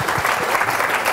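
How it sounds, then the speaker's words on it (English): A dense, even burst of audience applause at a London tech meetup as the first speaker is welcomed, brief and fairly loud. "please, a round of applause for Byron"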